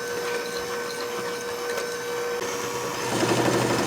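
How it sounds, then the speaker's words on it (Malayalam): A handheld electric blender beats cake batter for a layered dream cake, a steady close-up mechanical whir that thickens and grows louder in the last second, with no talking. "ഞാൻ ജസ്റ്റ് ഹാൻഡ് ബ്ലെൻഡർ കൊണ്ട് ബീറ്റ് ചെയ്തെടുക്കണം."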